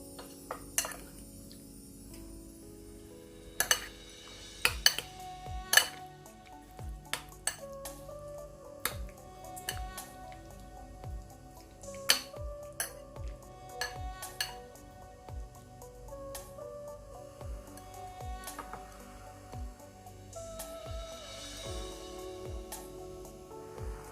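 A spoon clinks against a bowl while someone eats Thai rice porridge with fish, with scattered light metallic taps and scrapes at irregular intervals over a quiet background.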